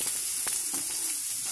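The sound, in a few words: onion frying and sizzling in pan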